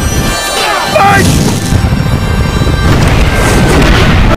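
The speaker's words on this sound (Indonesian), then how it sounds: "serangan meriam bola api yang bertubi-tubi dari anak buah Herakleo" Battle scene from a gladiator war film with repeated fireball cannon fire: dense, loud booming and crashing that runs continuously for several seconds with no pause.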